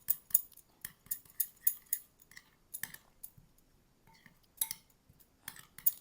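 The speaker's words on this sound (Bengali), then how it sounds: "এবার এটাকে ভালোভাবে মিশিয়ে নিতে হবে" Beaten egg batter seasoned with salt being whisked in a bowl for egg fry, giving quick irregular clinks and scrapes of utensil against the bowl in short bursts, close and fairly quiet with no talking.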